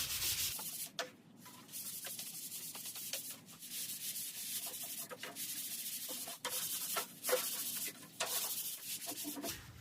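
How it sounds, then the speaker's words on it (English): A wooden door strip is sanded smooth by hand, with repeated scratchy strokes in an uneven rhythm, close and fairly quiet, with short pauses between passes. "That's why I'm sanding it to smoothen it."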